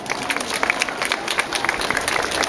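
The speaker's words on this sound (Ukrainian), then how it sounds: "Оплески, будь ласка." At a Ukrainian school last-bell ceremony, an audience gives applause for a guest official, a dense spread of many hands clapping at moderate distance, steady and sustained.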